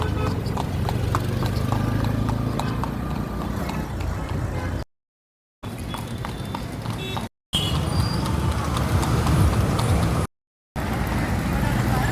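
Hooves of a carriage horse clip-clop in a steady, close rhythm on the road during a tanga ride in Mysuru, with passing traffic behind and brief silent gaps between stretches.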